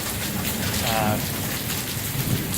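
Heavy rain pours down in a steady, dense hiss, close and continuous, with faint low rumbles beneath it.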